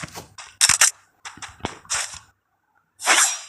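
Several sharp shotgun blasts from an M590 pump-action in a video game, loud and close, in bursts with short gaps and a final heavier boom, no talk.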